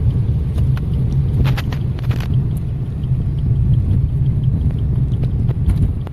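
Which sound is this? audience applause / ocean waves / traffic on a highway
traffic on a highway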